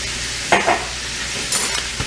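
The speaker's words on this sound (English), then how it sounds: "And I'm just going to mix all of that up." Cajun seasoning stirred into butter in a pan for shrimp and grits, a steady soft sizzle with a few scraping strokes of a utensil, close and with no one talking.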